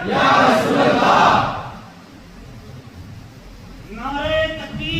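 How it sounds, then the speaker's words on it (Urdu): A crowd at an Islamic bayan gathering in Thohoyandou, Venda, South Africa, roars a loud collective slogan for about a second and a half, then falls quiet before a single amplified voice begins speaking. "مجمع سے بھی نعرے لگایا"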